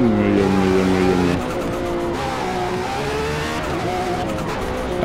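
A Lotus race car in Forza Motorsport at Le Mans roars at high revs, its engine pitch shifting as it accelerates with turbo whine, loud and continuous with no talk.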